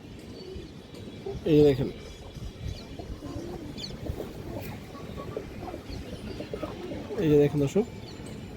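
A pigeon gives two short bursts of throaty cooing a few seconds apart, close by, while someone talks throughout.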